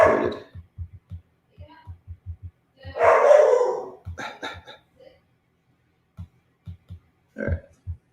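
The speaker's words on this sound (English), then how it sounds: "Puppy's getting frustrated." A puppy gives a string of short, sharp yips and barks in irregular bursts, fairly close, with a couple of louder, longer frustrated outbursts between the quick repeated yaps.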